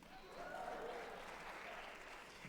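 Graduation commencement audience applauding and cheering, a broad steady wash of clapping and crowd noise at moderate distance, sustained throughout without speech.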